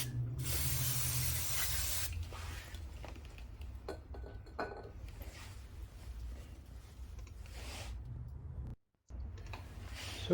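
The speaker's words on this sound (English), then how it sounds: "I will take the brake cleaner and spray it inside the brake caliper" Brake cleaner sprayed inside the front brake caliper of a Mercedes W210 during a brake pad change, an opening loud hissing burst followed by quieter hisses and small metallic clinks nearby.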